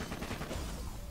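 Gunfire in the video game Borderlands 2: a brief, dense burst of rapid shots crackling together in quick succession.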